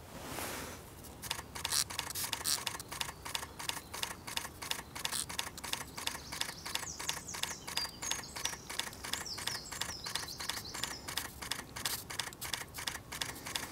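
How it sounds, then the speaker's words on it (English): A camera shutter firing rapidly in burst mode during spring woodland macro shooting, a steady fast train of crisp clicks lasting many seconds, close and clear, with faint bird chirps behind. "Going to set the camera to burst mode so I can keep taking these shots as I'm spraying the water."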